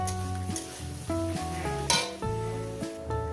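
Leafy greens with a pinch of turmeric fry and are stirred in a pan, the soft sizzle and scraping partly covered by louder melodic background music throughout.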